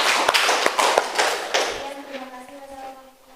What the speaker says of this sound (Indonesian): Oke, tepuk tangan buat Fitriatus ya.